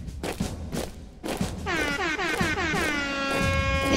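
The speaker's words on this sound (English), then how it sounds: "Oh, the air horn is your own horn." An air horn in the Roblox game Attack on Albert blares in a long sustained harmonic blast after a few soft thumps, loud and steady to the end.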